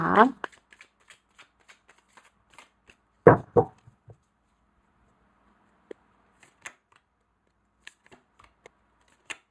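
Oracle cards are shuffled and handled for a tarot reading: a scatter of soft, quiet flicks and taps spread through the clip, with brief bursts of a voice talking near the start and in the middle.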